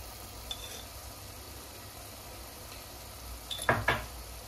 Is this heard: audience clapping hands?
no